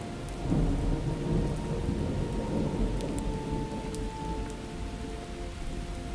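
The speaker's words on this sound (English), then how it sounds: "Starting to rain." Steady rain falls in the survival game Miscreated, a dense continuous hiss with low rumbling thunder underneath, no voices.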